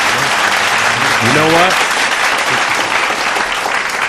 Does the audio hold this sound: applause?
yes